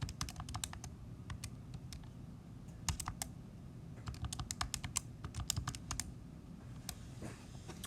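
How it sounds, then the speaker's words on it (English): Fingers tapping numbers into a handheld calculator: quick, light clicks in irregular bursts with short pauses, close and quiet over a faint background hum. "let me type this into my handy dandy calculator here"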